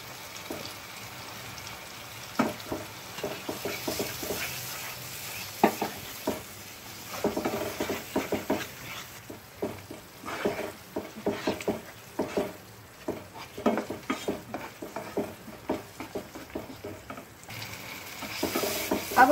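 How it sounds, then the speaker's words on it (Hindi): Onion paste sizzles and fries in a pan for an egg masala curry while a spoon stirs it in frequent scraping strokes, the steady fry hiss running throughout at close range with no talk. "अब हम इसमें प्याज का पेस्ट डालकर इसे भूनेंगे।"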